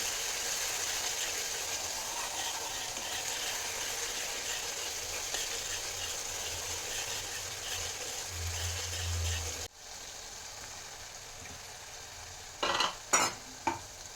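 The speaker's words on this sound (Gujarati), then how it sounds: "ગ્રેવી આપણે પકવવા દઈશું ધીમે ગેસે" Spiced gravy for bhungla bateta simmering on a low gas flame, a soft continuous sizzle with light stirring that stops abruptly, followed by a few sharp utensil clinks.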